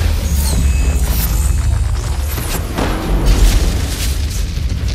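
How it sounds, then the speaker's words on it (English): Sombra's EMP ability from Overwatch sets off a loud, sustained booming blast with crackling electronic bursts and rumbling low end that runs nearly five seconds without letup. "EMP activated."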